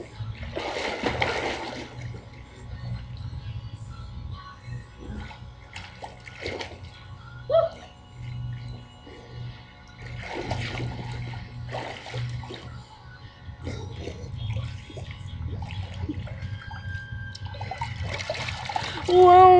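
Water splashing and sloshing in an inground pool as someone swims, with intermittent bursts of splashing, a low steady background hum and a person talking over parts of it.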